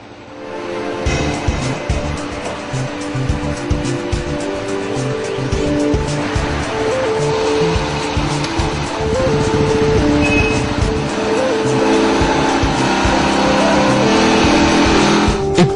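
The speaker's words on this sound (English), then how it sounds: "Every vehicle that is produced goes through a roller dynamometer." A Royal Enfield motorcycle engine runs steadily on a factory roller dynamometer, a loud continuous drone that swells slightly in the second half with no voices.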